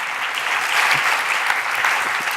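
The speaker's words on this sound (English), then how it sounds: "Give him another round of applause." Conference audience giving a speaker a round of applause, dense sustained clapping from a crowd filling the room at a steady level.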